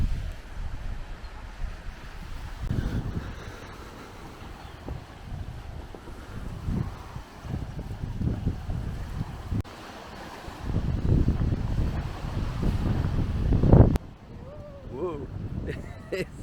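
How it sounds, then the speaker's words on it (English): Strong gusts of wind buffet the microphone beside a lake, rumbling in uneven surges that swell louder toward the end before easing off. "I hope you can hear me because of the wind"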